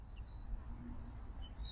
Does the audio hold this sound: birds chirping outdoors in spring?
yes